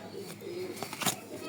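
Racing pigeons of a club line, kept in a cage, cooing softly in short low murmurs close by, with faint background noise.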